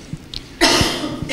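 A woman coughing once, a single sharp, fairly loud burst that follows a few faint background noises, with the room still a little noisy afterward.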